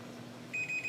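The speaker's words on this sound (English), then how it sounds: "So when the timer ended, we heard 5 quick beeps in a row." A Sous Vide 805A cooker's timer beeping, a rapid run of high electronic beeps starting halfway through over a quiet background hum.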